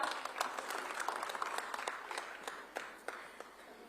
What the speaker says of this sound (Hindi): महेंद्र सुराना जी के लिए भी जोरदार तालियां